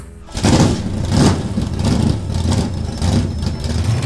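An old drag race car engine fires up abruptly and settles into a loud, close idle with a heavy, rhythmic pulsing lope, unaccompanied by voices.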